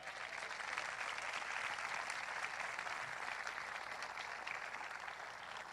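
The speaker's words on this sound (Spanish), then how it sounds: "Denle un aplauso fuerte." A church congregation claps loudly together after a sermon, a steady, sustained wash of applause heard at some distance, with no talking over it.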